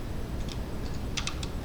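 Keys tapped on a Korean computer keyboard, a handful of light, quick clicks in short bursts, close and fairly faint over a steady low background hum, with no talking.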